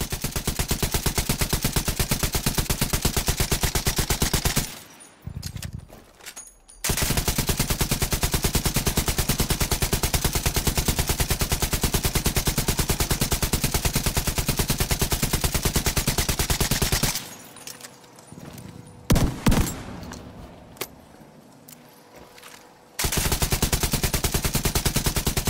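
An LMG in the game Division 2 fires long sustained bursts of rapid machine-gun fire, loud and close, broken by two short pauses filled with reload clatter before firing resumes.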